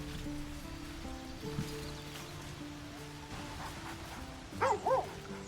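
In the video game Baldur's Gate, a dog lets out two short, quick barks near the end, over a soft background of ambient game music and environmental hum.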